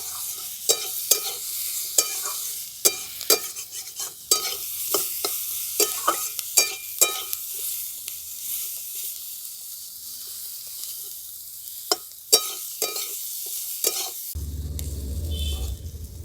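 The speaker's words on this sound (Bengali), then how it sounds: "সমস্ত করে সবজিগুলো আমি ভালো করে ভাজা ভাজা করে নেব।" Vegetables and drumstick flowers stir-fried in a pan with salt, turmeric and green chilies, a soft sizzle broken by repeated sharp scraping strokes of a spatula, followed at the end by a low rumble.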